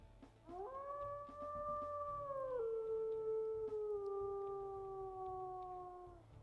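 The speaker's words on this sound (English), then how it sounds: "We'll listen to his howls." A wolf in the WolfQuest video game lets out a long, clear, mournful howl that rises, holds steady, then drops to a lower sustained tone and slowly fades, heard close and alone.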